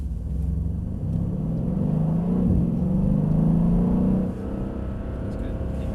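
A car accelerates along a wet straight toward about 40 mph, its engine rumbling and rising in pitch for several seconds before the note drops away as the throttle eases, heard steadily from inside the car.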